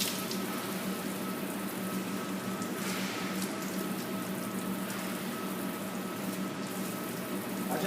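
Water runs steadily from a tap for wudu as the arms are washed, a continuous close hiss and splash with no break and no voices.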